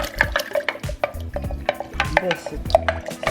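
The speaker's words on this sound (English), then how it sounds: "just a little bit of warm water. I'm going to mix it up." A utensil clinks and scrapes against a container in quick, irregular taps, close up, stirring warm water in a cup.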